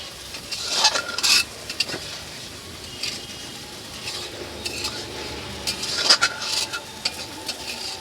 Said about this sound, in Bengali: মাছটাকে ভালো করে নাড়াচাড়া করে মশলার সঙ্গে মিশিয়ে নেব।